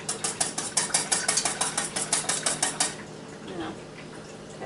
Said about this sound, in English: I'm going to stir it up so I get my cornstarch all mixed in there.